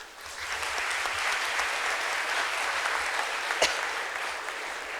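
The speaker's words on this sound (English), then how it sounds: "Clap for yourself." An audience applauds at a panel discussion, a dense, steady clatter of many hands clapping that rises quickly and holds at a moderate level for about five seconds with one sharper clap near the end.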